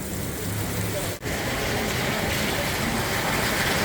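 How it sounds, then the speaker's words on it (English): Heavy rain pours down in a dense, steady roar of hissing water in Bangkok, Thailand, loud and continuous, with one brief dip. "it just started on a downpour"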